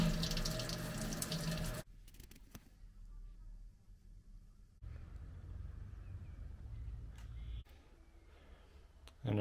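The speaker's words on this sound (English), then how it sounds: "So now we're gonna put it into the fermenter." Home-brewed wort poured into a fermenter in the German Alps, a steady splashing liquid stream that starts loud, then drops to a quieter trickling flow with brief gurgles and a few small knocks.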